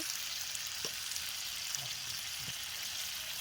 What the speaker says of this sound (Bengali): তেল আর পেঁয়াজ একসঙ্গে দিয়ে দেওয়া হলো বেগুন দিয়ে দেখো লবণ দিয়ে দিল